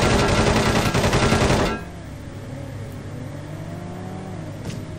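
Fast machine gun fire from the PS1 game World's Scariest Police Chases, a dense loud burst that cuts off after under two seconds, leaving engine hum and a faint whine.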